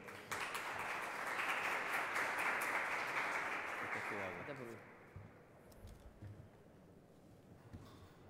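An audience at a legislative recognition ceremony breaks into strong applause, a loud, dense burst of clapping that fades after a few seconds into quieter scattered claps and room noise.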